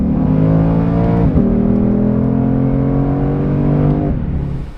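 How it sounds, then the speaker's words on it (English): Deep, loud Ford Mustang V8 engine drone heard from inside the car, holding steady with a gear change partway through and a brief rise before easing off. "We are in the Mustang making some lovely V8 noise."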